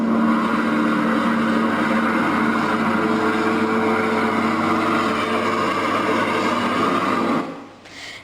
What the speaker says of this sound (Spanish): Unos enormes camiones de basura querían tirarla en el bosque.